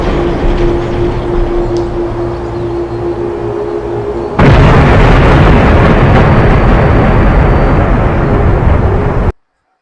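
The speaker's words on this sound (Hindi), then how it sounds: "तो एटम बम गिराया गया" A massive atomic bomb explosion, a dense continuous roar that jumps abruptly to a louder, fuller blast midway and holds steady before cutting off sharply.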